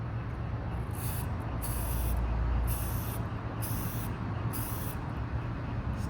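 Oil sprayed onto a K&N air filter in about five short, evenly spaced hissing bursts, close and fairly loud over a low steady background.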